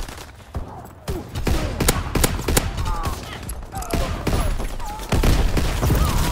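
Rapid bursts of World War II era rifle and machine-gun fire crackle through a close-quarters Call of Duty WW2 Kill Confirmed match on the Shipment map, loud and nearly continuous with thuds and impacts layered in.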